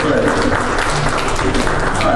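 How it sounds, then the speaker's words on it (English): A church congregation claps together in a loud, dense burst, mixed with voices and room noise throughout. "Give Lord a hand clap"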